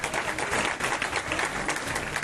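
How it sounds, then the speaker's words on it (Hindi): An audience applauds at a Hindu religious gathering, a Bhagwat Katha recitation, with steady, moderately loud crowd clapping throughout. "इनके लिए भी जरा सा ताली बजाएं।"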